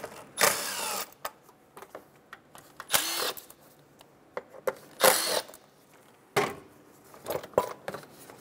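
On a 2007-2012 Nissan Altima, a power tool whirs in short bursts to remove three 5mm hex bolts from the engine cover, with clicks and metallic handling sounds between the bursts.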